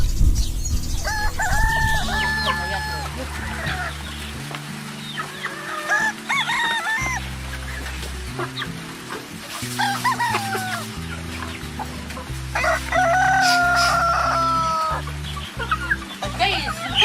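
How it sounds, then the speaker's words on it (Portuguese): Farm chickens cluck repeatedly while a rooster crows several times, loud and close, over a steady background of music. "Galinha."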